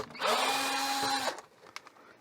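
A power screwdriver whirs steadily for about a second while backing a screw out of the bottom cover of a Korg MicroStation keyboard, then stops, followed by a few light clicks and taps.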